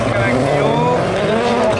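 A Renault Clio supercar races at a French rallycross championship round in Dreux, its engine roaring loud and continuous with rising and falling pitch as an announcer commentates over it.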